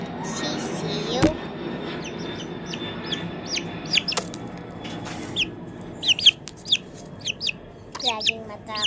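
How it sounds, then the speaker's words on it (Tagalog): A small chick peeps repeatedly, with short high chirps scattered through the clip that grow busier toward the end, over a murky background with some faint voice-like sound. "sisiw."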